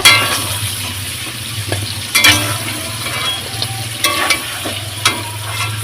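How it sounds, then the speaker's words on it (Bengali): Country chicken pieces fry in oil for chicken kosha, giving a steady loud sizzle broken by a few sharp clinks of a spoon stirring against the pan. "ভাজা ভাজা হয়ে এসছে মাংসটা ভাজা হয়ে গেছে"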